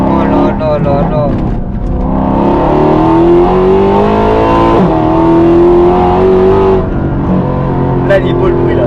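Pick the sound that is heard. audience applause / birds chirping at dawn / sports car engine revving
sports car engine revving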